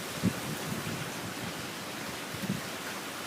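Extremely strong wind rushes in a constant broadband roar ahead of rain, with a couple of brief low thumps of gusts and no voices.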